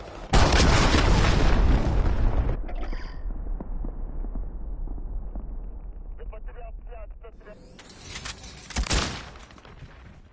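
Enemy cruise missile strike in a military video game: a heavy booming blast opens loud and rumbling, then fades into a low wash before a second distant explosion swells near the end, with game voices talking over it.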